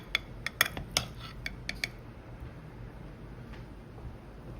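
A metal tasting spoon clinks against a cooking pot of empanada filling, a handful of light, sharp ticks spread over two seconds, then quiet kitchen background.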